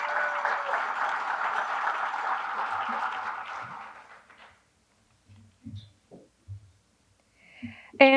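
Audience at an awards ceremony gives a warm round of applause that runs for about four seconds and fades out, followed by quiet rustles, a cough and a short tone at the end.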